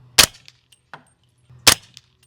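Two suppressed shots from a SIG MCX Rattler firing subsonic 300 Blackout, each a sharp crack followed by the clack of the bolt carrier cycling, spaced about a second and a half apart, close and loud.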